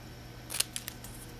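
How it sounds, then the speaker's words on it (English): Scissors cut the ends off a folded piece, giving three or four short, sharp snips close by, the first the loudest, with quiet room hum between them. "and then cut the ends off"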